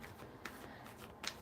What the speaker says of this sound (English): And I'm just shuffling right now.